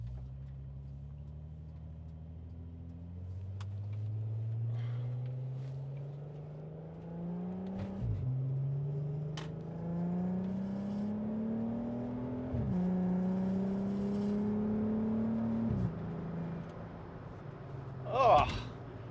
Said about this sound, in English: This car sounds pretty good.